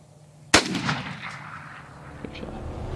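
A single sharp shotgun blast during a turkey hunt, loud and close, followed by a rolling echo that fades over a couple of seconds across open country, no voices.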